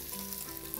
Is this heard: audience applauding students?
no